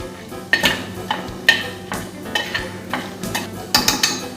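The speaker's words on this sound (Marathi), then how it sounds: "हे चांगलं मिक्स करून घेऊया आपण तेलामध्ये" A utensil scrapes and clinks against a pan while cardamom, star anise, cumin and black pepper are stirred in hot oil, with repeated sharp metallic strokes over a soft background sizzle.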